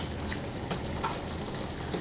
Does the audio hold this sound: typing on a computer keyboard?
no